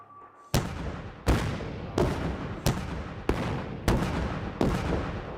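Artillery rounds fired for avalanche control along a snowy southern Colorado highway boom out in a slow series of about seven loud, sharp blasts, each trailing off in a rumbling echo across the mountains.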